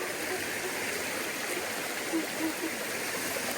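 Clear mountain stream rushing steadily over a rocky bed in the Carpathians, a loud, continuous close-up wash of flowing water with no break.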